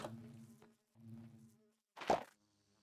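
Bees buzzing in Minecraft, a faint low droning hum in two short bursts followed by a louder swelling buzz, quiet with no talking.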